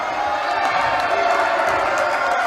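Crowd noise swells at a high-school basketball game between the Bighorns and Salem as fans react against a technical foul call, a steady, dense roar of voices with scattered shouts, continuous and fairly loud throughout.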